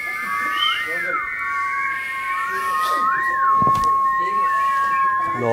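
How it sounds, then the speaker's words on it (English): Several people whistle together in a room, long sustained pitches overlapping with rising and falling slides, some warbling, fairly loud and close. "Come on, who can whistle longest?"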